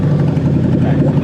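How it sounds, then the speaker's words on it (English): A car engine with no exhaust fitted runs loud and rough, a constant close low rumble throughout with no break. "Once it starts going, it's going to be loud because there's no exhaust."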